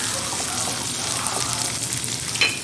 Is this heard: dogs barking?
no